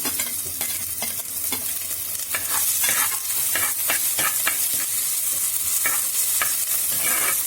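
Green chillies and curry leaves frying in hot oil for a Thiruvithamkoor-style fish curry, a steady close sizzle broken by sharp crackles and stirring scrapes throughout.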